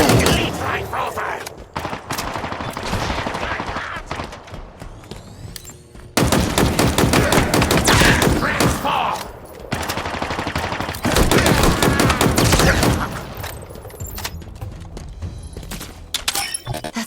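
Rapid bursts of gunfire and shattering impacts in the Halo Infinite campaign, with Master Chief attacking silos and an enemy base. The shots are loud and dense, run almost without pause, and are mixed with game voices and battle noise.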